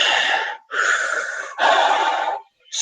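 A person imitating Darth Vader's mechanical breathing with the voice, three long, harsh breaths close to the mic with short gaps between them.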